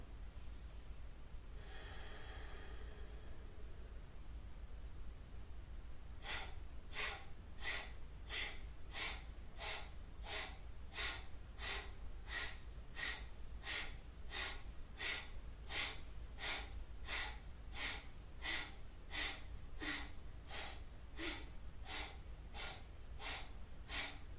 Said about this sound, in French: on va aller dans les expirations toniques. Et je commence, donc j'expire.